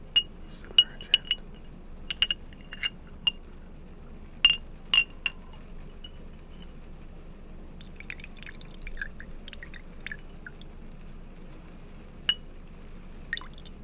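A glass dab piece is dunked in cleaning alcohol, giving scattered sharp clinks and taps of glass along with soft liquid sloshing and drips, close and quiet with gaps between sounds.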